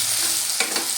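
Ground dry spices (coriander, cumin, Kashmiri chilli powder, salt and turmeric) frying in oil, a steady close hiss of sizzling with two brief stirring scrapes near the end, no talking.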